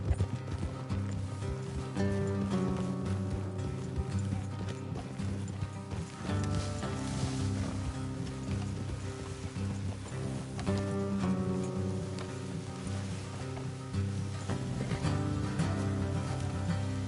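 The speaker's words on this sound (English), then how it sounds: "Let's leave the horses here and go the rest on foot." Horses ridden in Red Dead Redemption, with a steady, continuous clip-clop of hooves at a canter, mixed with background music.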